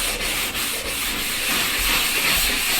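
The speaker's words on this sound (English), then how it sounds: "Scrubbing." A scrubbing sound effect from a sound pack: a steady, dense rough rubbing with faint periodic strokes, close and continuous for a few seconds, no voices.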